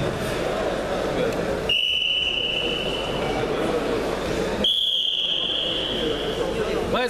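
Two long, steady, high-pitched whistle blasts sound a few seconds apart over a constant noisy roar of background chatter and crowd noise.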